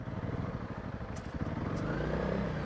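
Engine of a vehicle straining in first gear on a rutted, muddy forest road, a steady rumbling drone that grows fuller and louder toward the end, with no talk over it.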